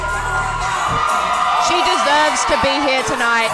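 A crowd at an XFC mixed martial arts event cheers and whoops loudly for a female fighter, a steady roar with a voice talking over it.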